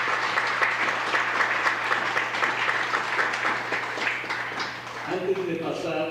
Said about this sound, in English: You can give us a round of applause if you want.